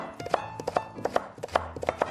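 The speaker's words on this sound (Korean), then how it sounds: "아주 그 도마에서 나는 칼소리 들으면은" A kitchen knife julienning cucumber and red chili on a cutting board, giving quick, crisp, evenly spaced chops close up, about a dozen in rapid succession, with no voices.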